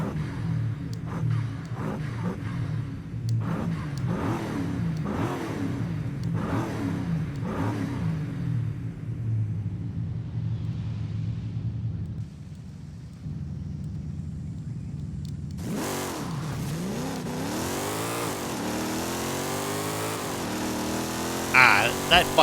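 A 1969 Camaro SS Coupe engine in Forza Horizon 5 revs in rising and falling sweeps, steady and loud, then climbs into a higher, harsher acceleration whine near the end.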